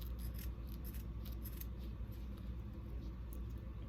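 Scissors snip through a fabric sling for a woodworking trebuchet, a steady run of close, quick cuts with soft rustling over low room noise.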